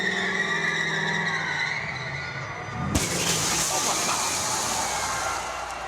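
A Mustang car bursts through a wall of glass at a WrestleMania 23 entrance, a sharp crash around the midpoint followed by a dense roar of engine, tire noise and shattering debris over crowd noise.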